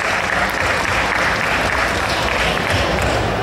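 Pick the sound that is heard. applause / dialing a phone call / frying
applause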